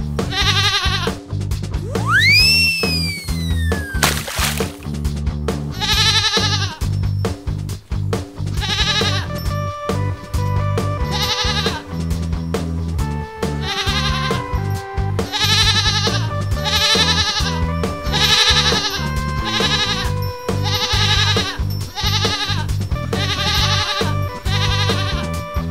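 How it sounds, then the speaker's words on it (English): Cartoon goat bleating over and over in a bright, musical backing, with a sliding whistle near the start and repeated wavering bleats spaced through a lively tune. "Goat."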